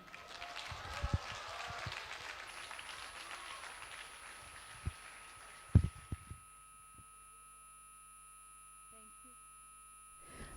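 Audience applause at the Aalmi Urdu Conference at the Arts Council in Karachi welcomes Yasir Hussain, heard as a soft, muffled wash of clapping with a few louder thumps that fades out after about six seconds, leaving a steady hum.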